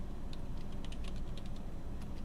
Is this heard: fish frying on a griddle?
no